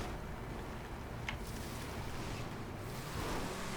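A Vapid Peyote car sits submerged in water in GTA V, giving a steady, faint wash of water and wind-like noise with no distinct events and no talking.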